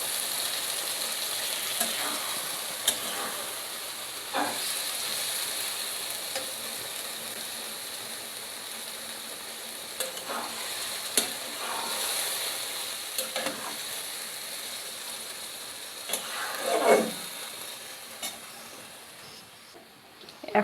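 Arum lobe curry with mustard, poppy seed and coconut frying in a pan, a steady soft sizzle with occasional gentle scrapes and knocks of a spoon stirring, close and moderately quiet.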